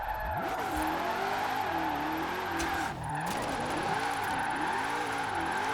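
A Shelby GT500 in the Forza Horizon 4 racing game revs hard with rising and falling engine pitch as it shifts gears, over steady tire squeal and road noise, loud and continuous.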